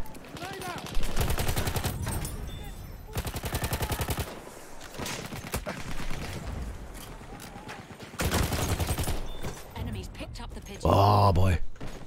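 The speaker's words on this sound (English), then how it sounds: "So it's like artillery. Artillery is unleashed upon us" Artillery barrage and gunfire in the video game Battlefield 1, loud bursts and rapid rattling volleys coming in waves, with a heavy blast near the end and someone talking over much of it.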